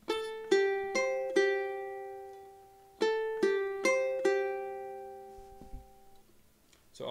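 A guitar plays the pre-chorus of a song, clear plucked notes in two repeated phrases of four picked notes each, ringing out alone and close.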